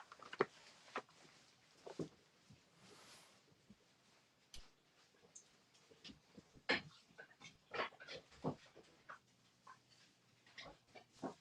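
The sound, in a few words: dog scraping at a door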